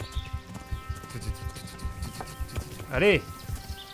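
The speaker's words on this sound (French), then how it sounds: "Est-ce que mon cheval peut venir?" Horse hooves clip-clop in the video game Kingdom Come: Deliverance as a steady, moderately close rhythmic plodding, with someone speaking French over it and a brief horse whinny near the end.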